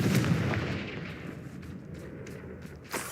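A Confringo blasting spell explodes in Hogwarts Legacy, a dull rumbling boom that decays over about two seconds, with a small sharp pop near the end.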